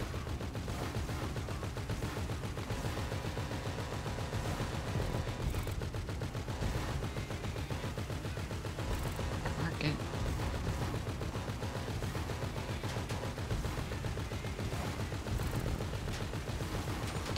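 Sustained automatic gunfire fired from a car during a GTA 5 target assault, a dense, steady rattle of shots that runs unbroken for many seconds at close range.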